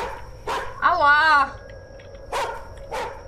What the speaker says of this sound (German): Warum ist der Hund so laut?